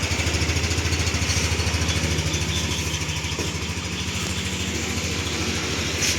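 A used motorcycle's engine idles close by with a steady, even putter that stays constant throughout.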